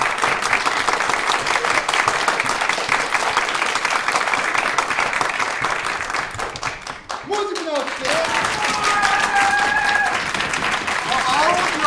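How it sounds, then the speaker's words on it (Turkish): A studio audience claps and cheers in sustained, dense applause, briefly dropping in level midway before rising again, with voices mixed in near the end. "Hangi tarafın daha çok alkışladığını beraber seçeceğiz."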